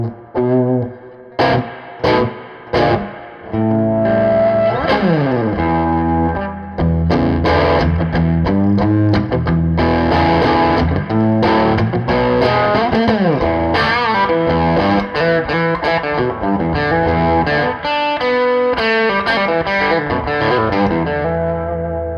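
Electric guitar played loudly through a Bartel Roseland amp, distorted tone opening with a few sharp stabbed chords, then dense sustained riffing and bending lead lines without pause.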